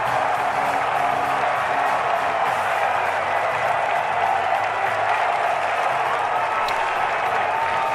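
A large golf crowd at the Masters roars and applauds Rory McIlroy's victory, a dense, continuous wall of cheering and clapping that stays loud and steady throughout.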